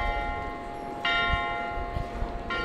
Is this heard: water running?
no